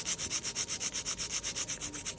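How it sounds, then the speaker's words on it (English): A hand nail file rubs back and forth along the side of an artificial nail tip, straight from sidewall to free edge, in a steady close rhythm of quick, even strokes with no voices. "you're filing from your sidewall to your free edge"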